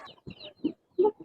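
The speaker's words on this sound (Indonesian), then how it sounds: "Mereka ayam." A chicken gives a few short, soft clucks in quick succession, close by and otherwise quiet.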